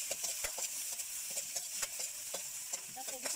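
An egg fries in a pan with a faint continuous sizzle, punctuated by scattered clicks and scrapes of stirring or utensil contact.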